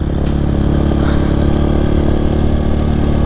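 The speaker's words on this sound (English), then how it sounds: "Oh dude, having a dirt bike is so much fun." A dirt bike fitted with a lawnmower engine rides along a trail, its small engine droning loudly and steadily throughout with slight revving variations, close to the listener.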